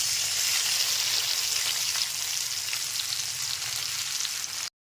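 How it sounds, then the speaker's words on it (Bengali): A ground spice paste fries in hot oil for coconut chana dal, giving a dense, steady close sizzle that runs unbroken before cutting off abruptly at the end. "এর মধ্যে গুঁড়ো মশলার পেস্টটা দিয়ে দিচ্ছি"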